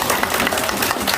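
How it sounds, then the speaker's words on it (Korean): Brief burst of audience applause welcoming a guest speaker at a middle school assembly with students, close and fairly loud clapping over a short moment. "박수로 환영해 주시기 바랍니다."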